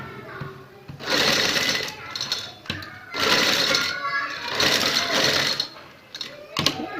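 A sewing machine stitches a cut-work design on the cuffs of a shalwar, running in three steady whirring bursts separated by short pauses, close and fairly loud, with someone speaking over it.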